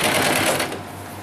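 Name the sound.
sewing machine stitching net fabric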